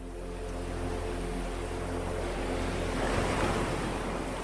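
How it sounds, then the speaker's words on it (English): Ocean surf rolling in at dawn, a broad steady wash of breaking waves that swells slightly louder near the end, with some wind rush over the microphone and no voices. "Watch these waves flowing like your breath, in and out, in and out."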